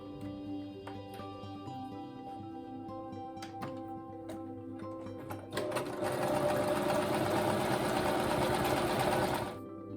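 A sewing machine stitches a fabric appliqué piece, with a few brief bursts of stitching giving way to a long, steady, loud whir at close range.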